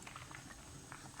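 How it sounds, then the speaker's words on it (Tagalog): A pot of fish and vegetable soup at a boil, soft bubbling and popping heard up close at low level. "Kumukulo na."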